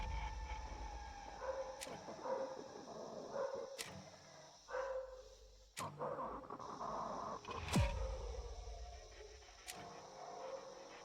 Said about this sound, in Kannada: ಸುತ್ತಮುತ್ತಲು ಎಲ್ಲ ನಾಯೆಲ್ಲ ಬೊಗಳ್ತಾ ಇವೆ.